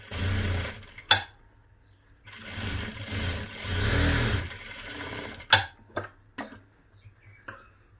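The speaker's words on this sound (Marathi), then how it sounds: "आता डबल शिलाई मारून घ्यायची." A sewing machine double-stitches the seam of a four-tuck blouse in two bursts of steady mechanical whirring, separated by a pause and followed by a few sharp clicks and knocks, fairly quiet and without talk.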